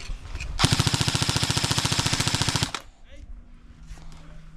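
A single long burst of full-auto gunfire in a cartel-themed shooter video game, rapid and loud and evenly spaced for about two seconds, then a few faint voices and background noise.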